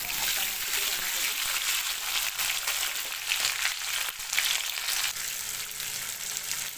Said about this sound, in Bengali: ফার্স্টে আমি তেল দিয়ে দিয়েছি, তেলের মধ্যে আমি আদা বাটা দিয়ে দিয়েছি।